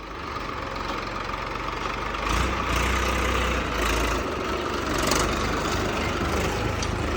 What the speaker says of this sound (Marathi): झाला फायनली चालू झाला ट्रॅक्टर